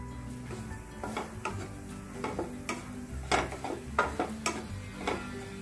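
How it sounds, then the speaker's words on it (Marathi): Almond powder being stirred and roasted in ghee in a pan, heard as a steady series of soft scraping and clinking strokes of a spoon against the pan at a quiet, close level with no talking. "हे थोडं पातळ झालं की आपण बदामाची पूड घालणार आहे आणि एक 3-4 मिनिटं परतून घेणार आहे"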